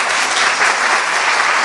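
An audience at a hospital event applauds, a dense, loud, steady roar of clapping hands with no breaks.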